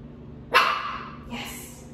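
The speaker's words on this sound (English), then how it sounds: "he does tend to bark a little bit when he does get frustrated" A frustrated puppy lets out one sharp, close bark followed by a fainter second yip, fairly loud against a quiet room.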